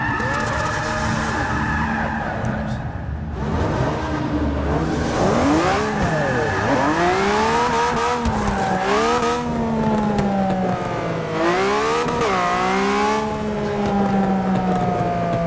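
A Mazda 787B race car in the video game Forza 6 roars continuously with its engine pitch rising and falling as it revs and shifts, loud and close throughout with tyre squeal-like tones and no talk.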